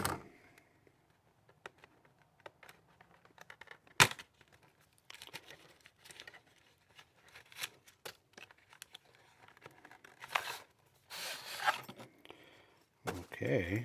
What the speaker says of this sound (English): I'll go ahead and cut this open.